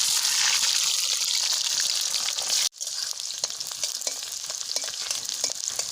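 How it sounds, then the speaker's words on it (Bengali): Bay leaf, dried chilli, whole garam masala and cumin seeds are tempered in hot mustard oil in a wok, giving a loud, close, crackling sizzle that drops out abruptly midway, then resumes spattering steadily; no voices. "ফোড়ন দেওয়ার জন্য তেজপাতা, শুকনো লঙ্কা, গোটা গরম মশলা আর গোটা জিরে দিয়ে দিন।"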